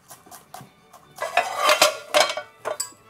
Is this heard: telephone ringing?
no